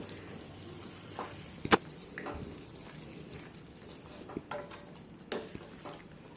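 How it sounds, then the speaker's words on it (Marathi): Cashew masala gravy with a little cream is stirred in a pan, a soft continuous sizzle under quiet scraping and occasional sharp clinks of a spoon against the vessel. "आणि आता हे सगळं मिक्स करून घ्यायचं."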